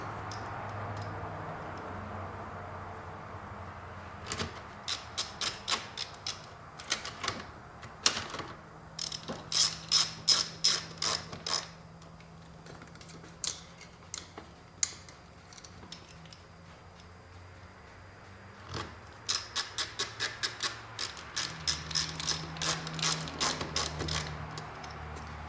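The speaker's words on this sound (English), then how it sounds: "Put the 4 screws back in." Metal screws driven back into a plastic Porsche Boxster/Carrera 986/996 cupholder with a ratcheting driver: close, crisp clicking runs in bursts separated by pauses.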